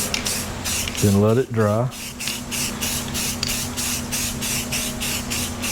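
Aerosol black paint sprayed onto a hot rod part, a steady broad hiss running through the whole stretch with short pulses, close and loud, while someone talks briefly over it.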